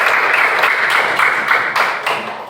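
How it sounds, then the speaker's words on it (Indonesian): A group of people claps together for a workshop team after its presentation in an Indonesian teachers' coaching session, a dense, steady burst of applause that swells in waves and fades slightly toward the end. "Sekali lagi kasih tepuk tangan untuk kelompok 1"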